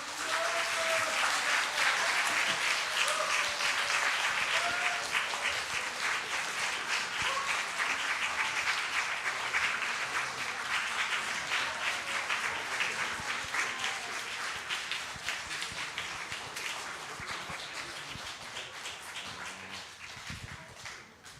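A church congregation at a Sunday worship service gives loud, sustained applause and cheering, a dense wash of clapping that stays strong at first and slowly eases off over about twenty seconds.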